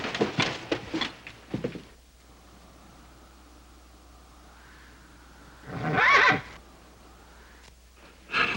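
A horse in a Western setting lets out a loud, close neigh, with a few hoof-like knocks before it and quiet background hiss between.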